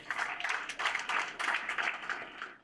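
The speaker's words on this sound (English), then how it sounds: "Let's clap for our Minister." An audience applauds the minister at an official welcoming ceremony at a ministry of trade, with dense, even clapping from many people in bursts that fade toward the end.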